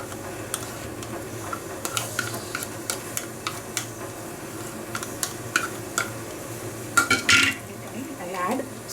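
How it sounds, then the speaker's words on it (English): A spoon scrapes green chili chutney from the corners of a blender jar in a home kitchen, giving repeated light, regular scraping clicks and taps, with a busier clatter near the end. "Okay, so I'll scrape from the corners"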